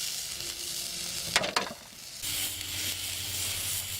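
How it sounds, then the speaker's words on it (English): Steak sizzling and frying in a pan over a Trangia mini stove at a wild camp, a steady close hiss broken by brief clattering handling noises before the sizzle returns stronger. "stick it on that plate, get the steak in."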